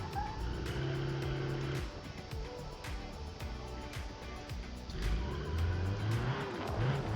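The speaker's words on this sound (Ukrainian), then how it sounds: "бензин ну, ще без шуму працює" A black petrol car drives off-road, its engine humming fairly quietly and steadily with some rising revs and wheel and body noise over rough ground. No one speaks.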